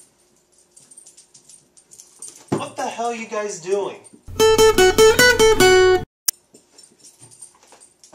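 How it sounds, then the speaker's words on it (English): A dog whines and whimpers indoors in a wavering, high-pitched run of a second or two, then a person's loud voice breaks in and drowns it out, with quieter talk before and after. "My dog, sorry."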